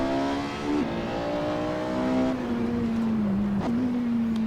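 Porsche 918 hypercar in the Assetto Corsa racing game, its engine holding a steady high-pitched drone with a brief pitch dip and a drop in revs near the end, loud and close with no talking.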